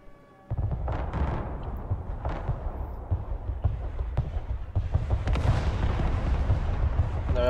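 Artillery fire in the video game Broken Arrow during a 5v5 multiplayer match: a steady barrage of low booms and rumbling blasts, dense and continuous after a brief quiet start, with distant impacts layered throughout.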